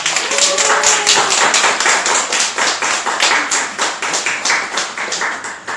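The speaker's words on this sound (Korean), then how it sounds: "한 번 더 박수 치도록 하겠습니다" Loud, close applause from a church congregation, dense and continuous clapping with a slight rhythmic pulse throughout.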